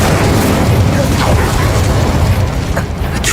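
A wizard casts the Incendio fire spell in Hogwarts Legacy, a loud, dense roaring burst of flame with crackling, popping texture that sustains without a break through the whole moment.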